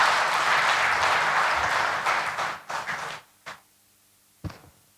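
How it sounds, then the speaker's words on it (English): An audience applauds after a public relations presentation with loud, dense clapping that thins out after about two seconds into a few scattered bursts and isolated claps, then trails off into near silence. "Another round of applause for our national PRO"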